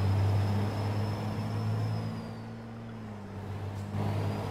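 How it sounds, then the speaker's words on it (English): A truck engine in American Truck Simulator idles and rumbles with a steady low drone and a faint high whine, close and continuous for several seconds while the truck tows a Peterbilt, with no talk. "It is weird how this truck sounds."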